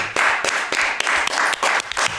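One person claps slowly and unevenly nearby, about eight or nine separate, fairly loud hand claps in a loose rhythm.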